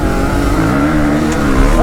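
Motorcycle engine revving hard under acceleration during an informal race, a loud close roar with rising and wavering pitch sustained throughout.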